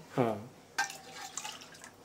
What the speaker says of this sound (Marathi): ओलं खोबरं आहे त्याचं नारळाचा रस त्याच्यामध्ये हे ओतून घ्यायचं आपण